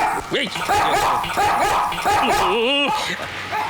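A small dog barks and yips several times in quick, uneven bursts close by, with a whimpering edge, loud and mostly alone.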